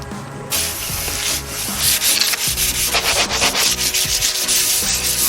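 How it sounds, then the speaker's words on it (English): Sandpaper rubs steadily over the cut edge of a PVC tube, with continuous scratchy strokes that are close and fairly loud and carry on without any talk. "Everybody can sand."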